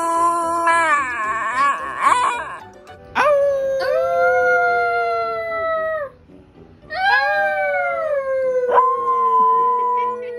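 A dog howling in long, loud, drawn-out wails close by, with several rising and falling howls separated by brief pauses.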